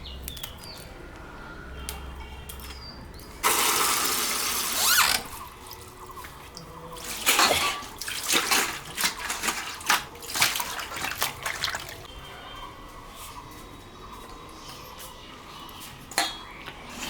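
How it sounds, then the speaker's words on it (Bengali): Gourd leaves rinsed in water for pakoras, with splashing bursts, sloshing and scattered drips and clinks of a vessel, fairly close, no talk. "পাতাটা আমি ধুয়ে নিয়ে আসলাম"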